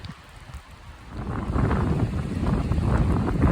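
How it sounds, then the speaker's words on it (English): Strong gusts on the Foley Peak summit in Oregon in January buffet the microphone, starting faint and swelling into a loud, rough, sustained roar. "it's blowing like a banshee up here"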